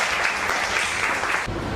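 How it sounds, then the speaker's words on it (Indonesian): Steady, dense applause from a crowd, evenly loud throughout with a slight swell near the end. "Boleh tepuk tangan untuk dia."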